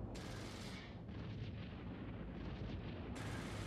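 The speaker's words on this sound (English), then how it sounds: "Still seeing a torrent of missile spam coming from those Drakes." A torrent of missile fire from Drake battleships in an Eve Online fleet battle, heard as a low, rumbling, continuous barrage of booming impacts with bright hissing bursts at the start and end, fairly faint overall.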